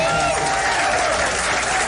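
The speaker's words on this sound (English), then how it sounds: "Give our co-host Christopher Smitherman a round of applause." A town hall crowd in Cincinnati applauds the co-host with sustained, dense clapping and some cheering voices mixed in, loud and close throughout.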